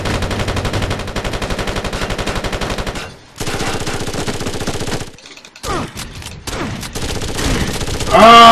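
Gunfire in the video game Far Cry Instincts Predator, a player firing a shotgun: loud, close shots in fast, even bursts with a couple of short pauses, and almost no talking.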